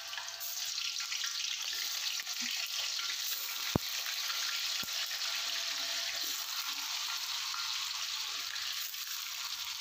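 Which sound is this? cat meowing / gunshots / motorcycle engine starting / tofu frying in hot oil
tofu frying in hot oil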